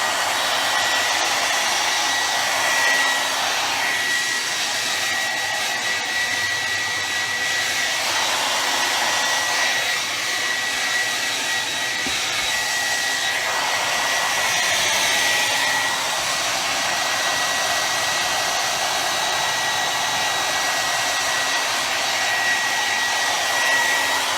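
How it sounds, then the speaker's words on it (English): A hair dryer blows steadily and loudly throughout, a constant whooshing hum with slight shifts in pitch as it moves. "So hair dryer again."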